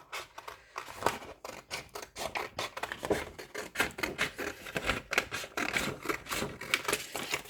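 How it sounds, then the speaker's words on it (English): Scissors cut through a tin can, a quick run of close, crisp snips and metallic crunches in an irregular rhythm with short pauses, no voices. "my third tin, I'm going to cut it up, same as the other ones"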